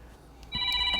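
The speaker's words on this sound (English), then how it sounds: "I'm sorry about my phone," A mobile phone rings with a bright electronic ringtone that starts abruptly partway through, sounding close and steady over a quiet room background during an agricultural business conversation.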